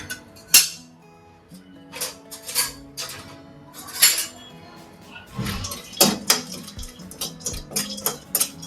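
Almonds and cashews roasting in a spoonful of ghee in a pan while carrot halwa is prepared, with irregular metal spoon clinks and scrapes against the pan over a faint sizzle, and no talking.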